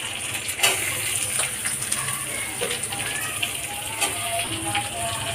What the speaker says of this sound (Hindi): अब इसमें हम डालेंगे ये प्याज।